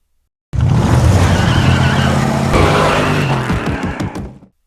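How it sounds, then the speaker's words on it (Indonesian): A modified car on a test drive skids hard, tires squealing loudly over a roaring engine for several seconds before the sound fades out. "Brain yang sudah memodif mobil, ia pun langsung mengetes mobil tersebut sekaligus mengasah skill menyetir"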